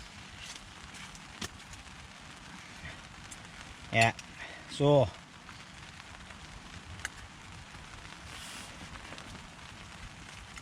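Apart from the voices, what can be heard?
rain falling on a hot tent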